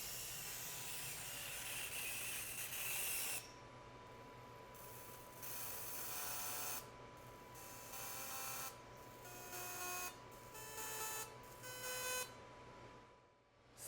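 An OMTECH 60W MOPA fiber laser engraves a test pattern, giving a steady mechanical hiss and whine with high-pitched tones that start and stop in bursts as the marking passes run, close and fairly quiet.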